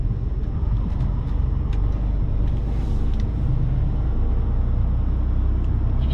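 Steady low engine rumble from a truck idling and manoeuvring, continuous and fairly loud with faint ticking and clicks on top, no talk.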